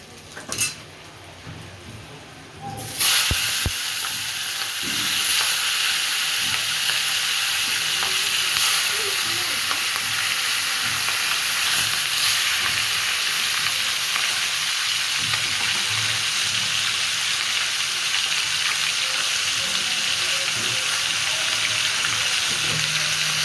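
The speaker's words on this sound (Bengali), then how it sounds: "লাল লাল করে ভেজে নিয়েছি, সবগুলো এরকম করে আমি ভেজে নেব।" Katla fish heads frying in oil until reddish, preceded by a brief quieter moment, then a loud continuous crackling sizzle for the rest, close up with occasional faint utensil clinks.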